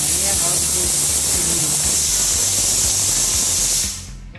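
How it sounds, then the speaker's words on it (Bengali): A pressure cooker cooking dal lets off its whistle, a loud, steady hiss of escaping steam that fills the kitchen close by before dying away at the end, with a voice faintly present underneath. "ডালে সিটি করলো"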